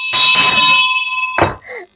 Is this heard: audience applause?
no